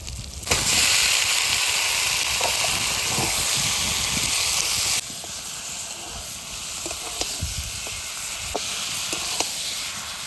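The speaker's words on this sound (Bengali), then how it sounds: "এবার খাসি মাংসটা দিয়ে দেবো" Goat mutton dropped into hot oil and cooked spices sets off a loud, close sizzle that roars for a few seconds, then settles to a softer, steady hiss with occasional spoon scrapes.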